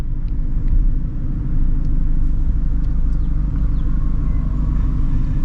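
A straight-piped Ford Shelby GT350 rumbles loudly from inside the car, a deep, steady exhaust drone holding at high level for several seconds without clear revving.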